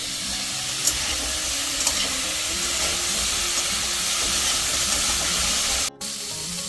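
Winter vegetables fry steadily in a pan for a vegetable khichdi, a continuous broadband hiss and sizzle with faint clicks, staying even and close with a brief dropout near the end.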